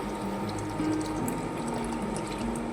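Poppy-seed rinse water is poured into fried curry spices in a cooking pot, a soft running trickle and splash of liquid with a faint low hum behind it.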